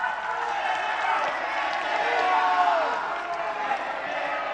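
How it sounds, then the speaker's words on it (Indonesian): Crowd applause and cheering from a live audience at a public gubernatorial election debate in South Sulawesi, saluting two candidate pairs; a dense, steady wash of clapping and voices holding loud throughout. "kita berikan tepuk tangan kepada 2 pasangan calon"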